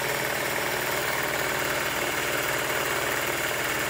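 N machine generator spinning magnets at roughly 800 to 900 RPM, giving a steady loud mechanical hum and rattle with an even vibrating texture throughout, no voices.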